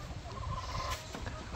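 Chicken clucks low and muffled in a rural yard, brief throaty calls over a murmuring background.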